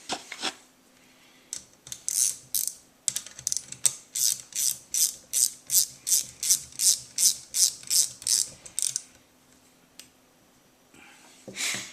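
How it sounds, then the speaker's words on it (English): A ratchet clicks in a steady, rapid series of sharp strokes while a bolt is tightened on an Aisan carburetor, each pull loud and close, with brief pauses at the start and end. "Tighten the bolt down."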